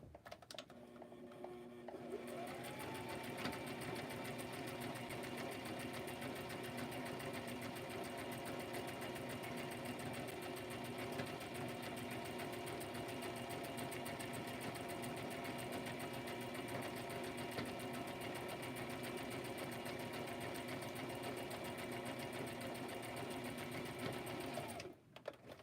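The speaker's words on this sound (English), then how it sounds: "The sari silk is just murder trying to sew it." A sewing machine stitches sari silk to line a fabric cover, running steadily and close for about twenty-five seconds with an even mechanical whir and rapid needle clatter, then stopping at the end.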